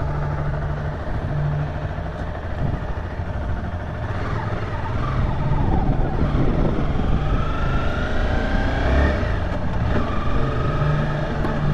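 A steady Honda motorcycle engine drones throughout on a test ride, rising a little in pitch and loudness midway as it revs, with constant broadband road and wind noise.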